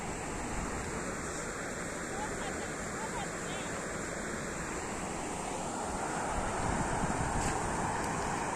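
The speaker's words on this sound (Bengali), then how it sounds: "দেখুন কতটা ফোর্সে জলটা পড়ছে।" Forceful river water pours in from both sides at a riverbank at dusk, making a loud, steady broadband roar that never lets up, with some wind buffeting the microphone.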